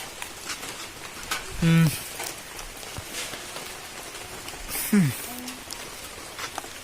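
Steady rain patters on surfaces around an outdoor guppy fish farm, a continuous soft hiss throughout with brief louder bursts from other sounds.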